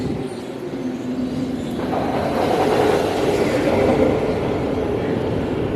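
Ice Breaker roller coaster at SeaWorld Orlando on a test run, a rolling rumble of train wheels on track that swells as the cars approach, steady and moderately distant with no talk.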